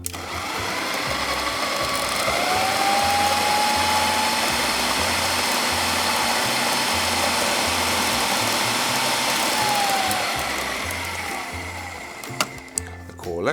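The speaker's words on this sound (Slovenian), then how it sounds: "Sedaj pa to čudovito zadevo preprosto zmiksamo." A blender mixing a vegetarian tartare mixture, a steady loud whirring motor running continuously for several seconds before stopping, followed by a few clattering knocks.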